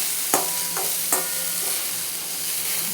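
Tomatoes stirred and fried in a pan on a home stove, a spoon scraping in a few distinct strokes over a continuous hiss of sizzling oil, close and clear with no talk.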